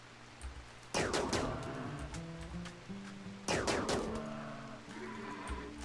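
Gunfire in the RimWorld video game: two loud bursts of rapid shots a few seconds apart, each followed by a ringing, stepped tail over a quiet background.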